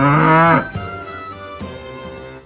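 A cow and calf standing in a village give one loud, drawn-out moo at the very start, followed by a quieter musical background.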